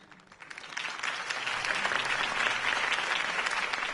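A crowd at a campaign rally for Harvey Dent breaks into applause, swelling within the first second into loud, sustained clapping that carries on to the end.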